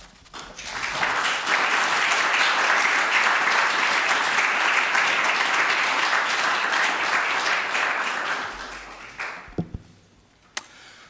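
Lecture audience at an evening talk applauding: dense, continuous clapping that swells in quickly, holds steady for about eight seconds, then fades out, followed by a few faint taps and bumps in a quiet room.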